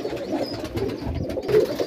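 Pigeons flutter and struggle in a person's hands as they are caught, a busy stretch of soft wingbeats and scuffling with a few low coos, close and fairly steady.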